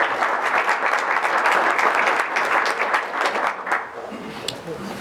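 Audience applause at a Cherokee tribal council meeting, a loud, sustained clatter of many hands clapping for nearly four seconds, then thinning out as voices carry on in the room.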